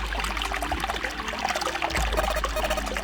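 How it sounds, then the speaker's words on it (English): Water trickles and pours steadily from a faucet with no knob in the video game 999, a continuous close, moderately loud liquid stream with no talk over it. "Hey, water's filling up."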